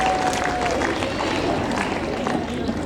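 An audience at an Isra' Mi'raj gathering at SMKN 3 Padangsidimpuan school applauds after a girl recites Surah Al-Kahf. The dense, even clapping of a crowd fills the room without a break, with a faint murmur of voices underneath.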